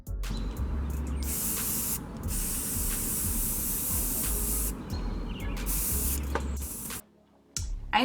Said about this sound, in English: And then I just took everything outside and spray painted everything black.